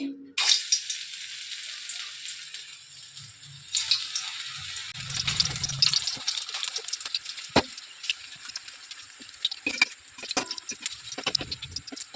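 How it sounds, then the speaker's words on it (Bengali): Spinach pakoras deep frying in hot oil give a steady, close crackling sizzle with scattered sharp pops and a few clinks of utensils against the pan. "আমি সব পকোড়াগুলো ভেজে নিচ্ছি"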